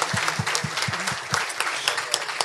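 After a talk on AI for customer experience, an audience applauds the speaker with steady, warm clapping, several louder claps standing out near the front of the room.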